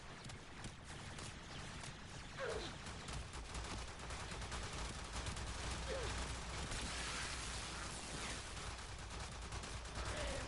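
Rapid, dense enemy gunfire crackles continuously in the Warframe video game, loud and sustained with overlapping bursts like a fusillade, and a faint voice occasionally underneath.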